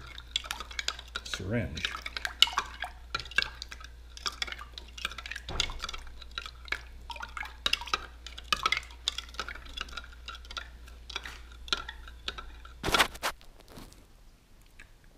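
Oxalic acid solution being stirred in a container, with repeated small clinks, taps and liquid swishes scattered through the clip, fairly close, with occasional speech mixed in.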